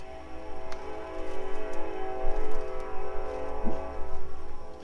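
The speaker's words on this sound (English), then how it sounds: "It's a slow-moving coal train." A slow-moving coal train rolls past a backyard cookout, a steady rumble with sustained droning tones and faint clanks held at a constant, fairly loud level throughout, with no talking.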